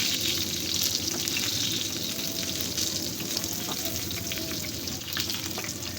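Beef fritters wrapped in bottle gourd leaves frying in hot oil, giving a dense, continuous sizzle at close range with faint stirring noises and no talk.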